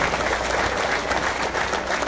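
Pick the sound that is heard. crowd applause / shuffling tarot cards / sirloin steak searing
crowd applause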